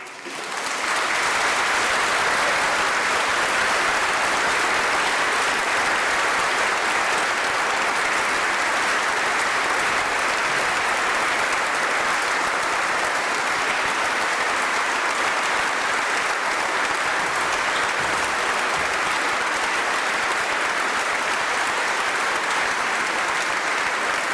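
A church congregation at an ordination applauds the newly ordained priest, Guillaume Thévenon, with a long, loud, unbroken wash of clapping from a large crowd that begins abruptly and holds steady for over twenty seconds.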